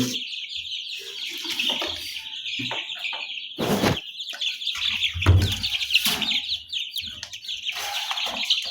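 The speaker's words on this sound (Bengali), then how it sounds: "দেখেন আমার মুরগির বাচ্চাগুলো কত ফুল ফুরায় দেখছেন অনেক দুষ্টামি করে কিন্তু" Twenty-five baby chickens in a home brooder give busy, overlapping high chirps with scattered scuffles and flapping bursts, all close and lively throughout.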